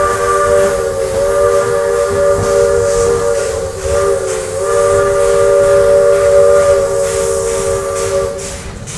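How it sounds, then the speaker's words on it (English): A steam whistle on a Roaring Camp narrow gauge railroad train in the redwood forest blows one long, loud, steady chorded tone for nearly the whole stretch, over a low rumble of the moving train. "the next time you hear the whistle"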